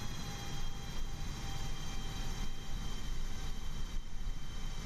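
Steady broadband roar of an airliner's engines in Microsoft Flight Simulator, a constant droning hum with faint tonal whines that runs unbroken throughout, with no talk.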